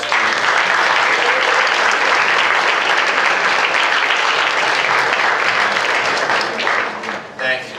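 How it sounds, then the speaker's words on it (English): Sustained applause from an audience at an eighth-grade promotion ceremony, loud and dense, fills the whole stretch and starts to fade near the end. "give a sincere round of applause to your parents and everyone who has"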